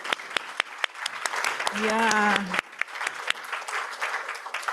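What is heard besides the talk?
audience applause for staff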